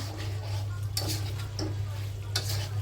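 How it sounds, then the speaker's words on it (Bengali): Duck meat bhuna frying in a pan while being stirred, a low sizzle under a steady hum with a few distinct scrapes and clinks of the spoon against the pan. "আর একটু ভাজা ভাজা করে নিলে হয়ে যাবে রান্নাটা।"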